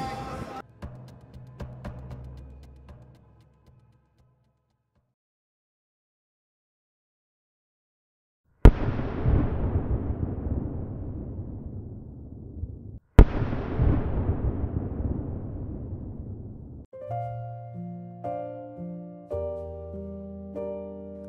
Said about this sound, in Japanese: 今回の桑名水郷花火大会の花火は無事スタートを切ることができました。